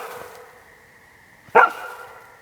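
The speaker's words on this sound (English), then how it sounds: "he started barking and ran on that side" A dog in an outdoor bushcraft camp, where an underground shelter is being built, lets out a single short, loud bark against quiet background noise.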